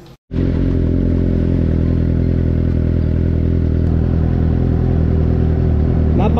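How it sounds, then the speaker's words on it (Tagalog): A Suzuki GSR 750 inline-four motorcycle fires up abruptly after a brief silence and runs loud and close, a steady smooth engine drone with faint mechanical clatter and a slight rise in revs near the end. "So i-test drive na natin tong GSR 750."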